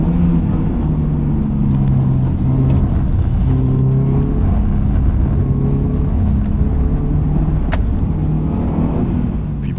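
A Subaru Impreza accelerating hard up a mountain pass, its engine droning loud and close in a long sustained pull with rising and shifting tones and no voices.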